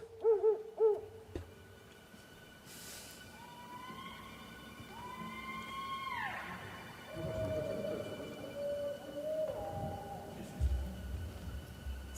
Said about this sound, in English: Some sounds of the forest